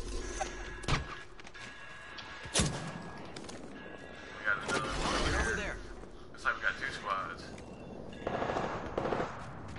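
Gunfire rattles through a battle royale game fight: rapid machine-gun bursts and single sharp shots come at uneven intervals, some close and loud, others further off, with a voice talking over the fight.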